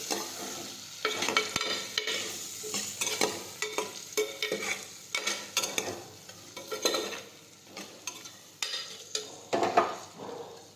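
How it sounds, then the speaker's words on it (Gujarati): Spices being stirred and mixed into a pointed gourd (parval) curry in a hot pan with lemon juice, a steady sizzle under repeated scraping strokes of a spoon, close and clear with no talking. "હવે આપણે બધા મસાલા છે તે મિક્સ કરી દઈશું."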